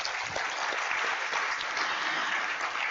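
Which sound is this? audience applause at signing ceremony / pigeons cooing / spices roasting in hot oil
audience applause at signing ceremony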